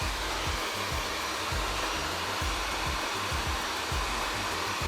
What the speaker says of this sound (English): Now, with a hair dryer, we shape it one side and the other.